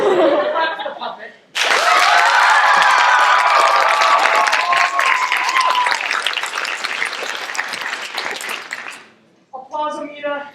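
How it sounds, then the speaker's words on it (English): A theatre audience breaks into loud applause for a puppet, mixed with laughter and some cheers, sustained for several seconds before fading, with a voice speaking briefly before and after. "Clap for the puppet."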